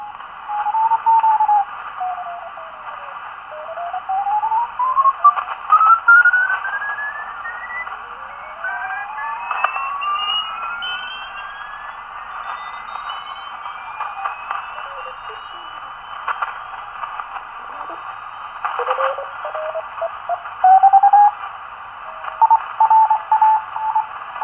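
A homemade Simpleceiver Plus superheterodyne receiver being tuned across a crowded band, with whistling heterodyne tones sweeping up and down over a steady band of hiss and static, loud and continuous with no talking.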